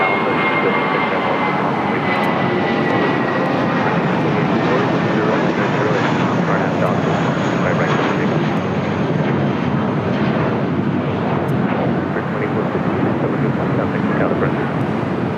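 Loud, sustained jet roar of an airliner taking off at Los Angeles International Airport, bound for Dallas Fort Worth, steady and close with some wind buffeting on the microphone.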